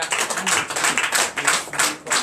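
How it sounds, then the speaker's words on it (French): A church congregation clapping in acclamation during a Sunday worship service in Comè, Benin, a lively burst of many hands with uneven rhythmic peaks, close and fairly loud. "Donne l'acclamation à Jésus"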